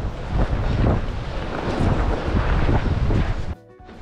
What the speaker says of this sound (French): Oh, il y a du vent en plus.